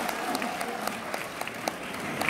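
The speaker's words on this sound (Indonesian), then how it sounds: "Tepuk tangan dong buat Prudential ya." Audience applause at a Prudential event in Indonesia, a short, fairly even burst of clapping from a crowd with a few sharper individual claps standing out.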